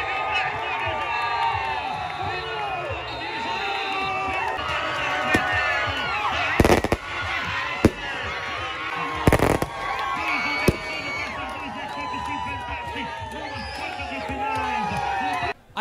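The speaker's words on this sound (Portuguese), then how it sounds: "a torcida fazendo a festa" A football crowd celebrates after the final whistle of a Copa Ximenes quarter-final, Bom Sucesso winning 1-0, with a dense, continuous roar of cheering, shouting and singing, punctuated by sharp firework or firecracker bangs, loud and sustained throughout.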